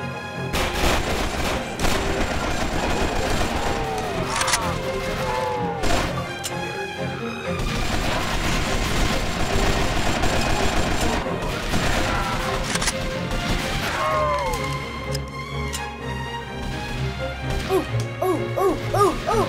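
An AK-47 fires in the Roblox zombie shooter Left 4 Survival 2 amid a loud, dense mix of continuous shots, booms and game music that runs without pause throughout.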